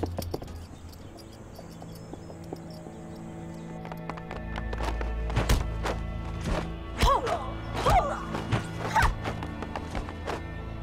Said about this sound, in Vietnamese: Theo tiếng súng, tất cả ngựa xông ra khỏi chuồng.